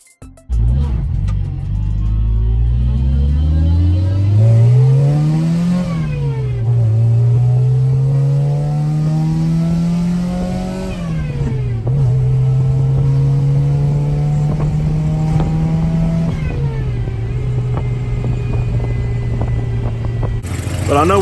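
A supercharged 1993 Honda del Sol with a B18C1 engine and AMR500 supercharger revs repeatedly, its loud, close engine note climbing and dropping in long sweeps with a rising supercharger whine above it.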